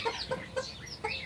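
A desi naked-neck hen that has just hatched chicks clucks in short, repeated calls close by, several quick bursts over a moment with no talking.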